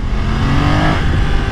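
A BMW F 900 XR motorcycle, 105 hp and nearly 900 cc, pulls hard during a top-speed run, its engine roaring loud and close over heavy wind rush, with no talk.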